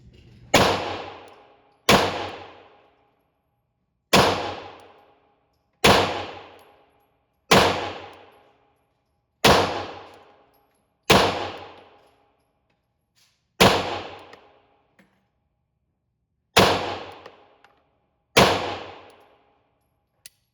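A Beretta M9 handgun fires ten sharp, loud shots one at a time with irregular pauses, each crack followed by a short ringing decay, and no talking.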